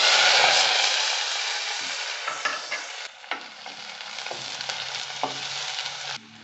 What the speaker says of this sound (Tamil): வெங்காயத்தை ஓரளவு நல்லா வதக்கிடணும்.